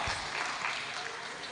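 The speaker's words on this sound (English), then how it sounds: "Clap for her." Brief burst of audience clapping at an annual international hall event, a dense, steady wash of hands with no voices on top.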